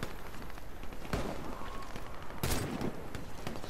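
Gunfire in the Warface first-person shooter: rapid shots crackling at a moderate distance, with two sharper, louder bursts standing out over a constant, busy noise bed.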